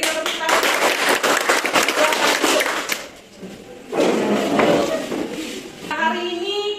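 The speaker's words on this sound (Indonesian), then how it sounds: "Oke, beri tepuk tangan." A class of children applauds together, dense broadband clapping that fades briefly around the middle and then swells again before tapering, with a few voices mixed in toward the end.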